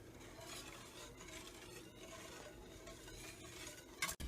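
A spoon stirring a thick creamy cake filling in a pan over a double boiler, a quiet continuous scraping and rubbing close by, ending in a brief clatter.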